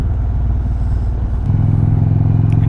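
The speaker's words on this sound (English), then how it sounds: "Exhaust sounds nice." A 2021 Indian Roadmaster motorcycle engine rumbles steadily while riding, then the exhaust note deepens and grows louder partway through, with faint clattering on top.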